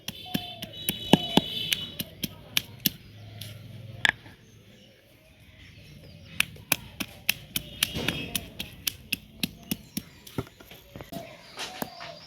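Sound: crushing sour jujube plums on a grinding stone

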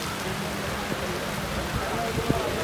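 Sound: heavy rain

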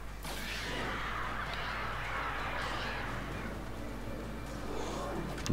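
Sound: crows cawing in the video game Alan Wake

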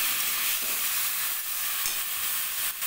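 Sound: taro leaves being stirred and fried in a pan

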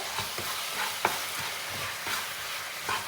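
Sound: sugar syrup boiling and being stirred

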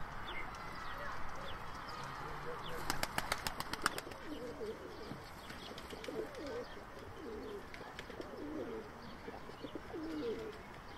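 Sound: Sivas tumbler pigeons cooing

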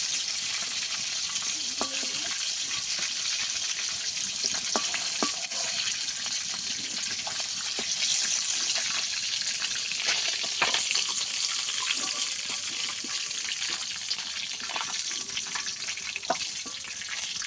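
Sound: eggplant frying in oil

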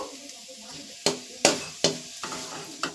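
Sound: mustard and cumin seeds spluttering in hot oil

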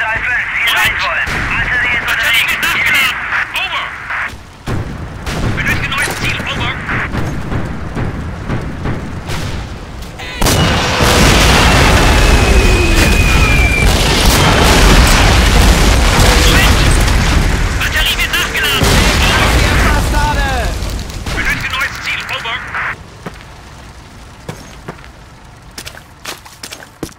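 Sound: artillery fire and explosions in Call of Duty 2 video game

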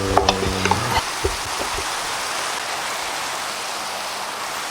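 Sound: rain falling in Minecraft video game

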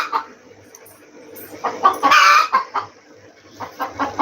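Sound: chicken clucking indoors

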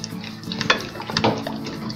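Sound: stirring homemade ginger honey candy in a pan

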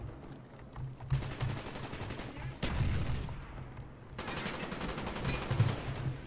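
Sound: gunfire in Call of Duty Black Ops video game

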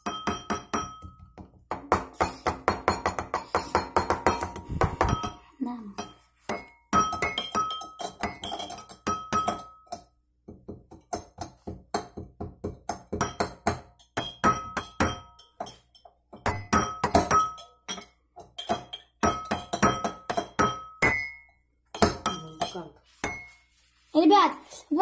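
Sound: tapping glass containers to play music

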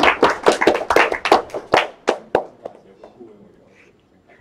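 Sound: audience applause

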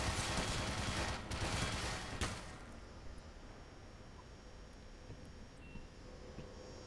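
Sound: turret gunfire in video game Black Mesa

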